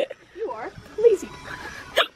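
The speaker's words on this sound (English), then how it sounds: "That was a serious hiccup." A single sharp hiccup from a person, heard close up in an indoor setting with other voices talking around it.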